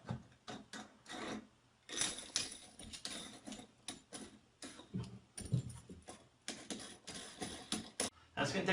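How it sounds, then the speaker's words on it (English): A faucet nut being threaded onto a kitchen sink faucet by hand, heard as soft, irregular rubbing and scraping clicks in short bursts, close and faint. "Just keep screwing it with your hand and get it hand tightened."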